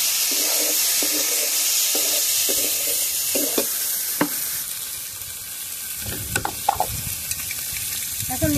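Ground paste of ginger, garlic, cardamom, cinnamon, pepper and dried chilli hits a pot of meat and mung dal, giving a loud steady sizzle with repeated stirring scrapes and clinks throughout.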